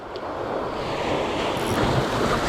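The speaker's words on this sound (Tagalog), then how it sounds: "Laki pa ng dagat pag umaga guys." Big morning sea waves washing and surging steadily, a broad continuous roar of surf with wind noise on the microphone.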